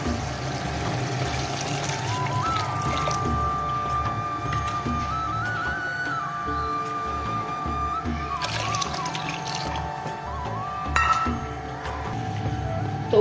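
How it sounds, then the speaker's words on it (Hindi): Water pours into a pot of rice and peas on a gas stove, a steady, continuous splashing flow heard up close over a faint background hum. "अभी मैं पानी ऐड कर दूँ।"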